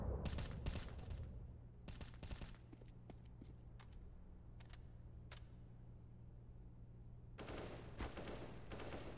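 Gunfire in a tactical shooter match: sharp bursts of shots at the start and again near the end, with scattered single cracks between, over a steady low background hum; no talking.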